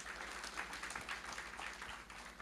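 Church congregation clapping during a worship service, a fairly faint, steady patter of many hands that continues evenly throughout without voices on top.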